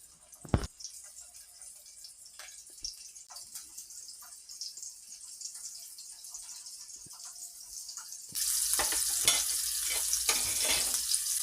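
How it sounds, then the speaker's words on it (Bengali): Hilsa fish sizzling in hot oil in a pan, a steady frying hiss with occasional clinks, growing louder and fuller near the end as the sizzle intensifies. "মাছটিকে ভালোভাবে ভেজে নিতে হবে।"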